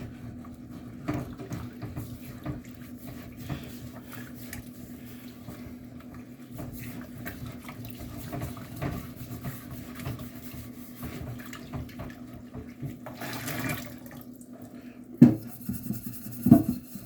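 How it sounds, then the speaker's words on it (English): A pan being rinsed under a running kitchen tap in a sink: a steady, low hiss of flowing water throughout, with occasional soft clunks of the pan and a couple of sharper knocks near the end. "Take this pan out, rinse it off."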